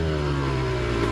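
Loud, close exhaust of a 2008 Suzuki RM125 two-stroke dirt bike running without packing, a steady harsh buzzing drone that fills the whole moment with no pauses.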